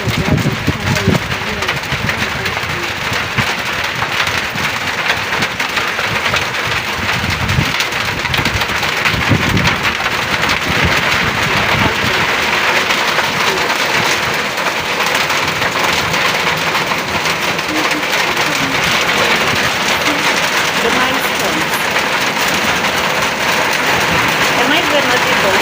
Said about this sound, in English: This is so much rain.